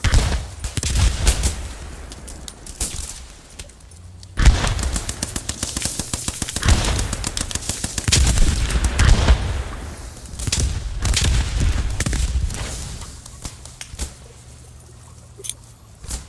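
Sustained covering fire in the WWII shooter Post Scriptum: rapid machine-gun bursts and booming shots roll on steadily, loud and near, with short pauses between volleys.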